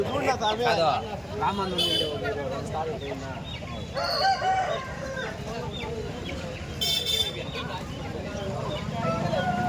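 Andhra breed country roosters crow loudly at a poultry market, several calls breaking through the clucking of other chickens while people talk nearby.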